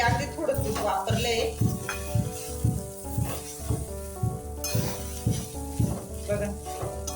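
Grated sweet potato frying in a little ghee in a pan, stirred with a utensil in a steady rhythm of scraping strokes over continuous close sizzling.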